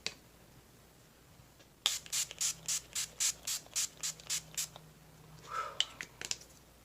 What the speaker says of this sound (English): for setting spray, I am using the NYX Dewy Finish setting spray